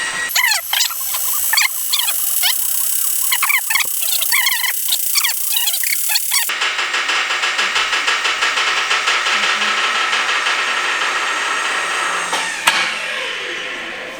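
Electric motor straining under load while hoisting a homemade camper roof rack, a harsh whining, squealing drone that shifts pitch partway through and keeps grinding loudly and continuously up close.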